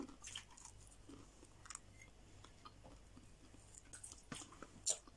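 Quiet, close crunching as something crisp is chewed, irregular crackly bites and munches with no talking.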